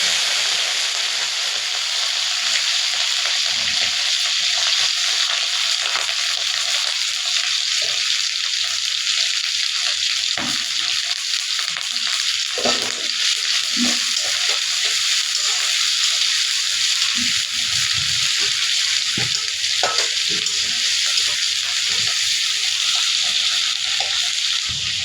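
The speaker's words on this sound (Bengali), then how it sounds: "চিংড়ি মাছটা একটু ভেজে নিলাম।" Shrimp fry in hot oil with a dried chili, giving a loud, constant hiss-and-sizzle close up, broken by scattered stirring scrapes and clinks throughout.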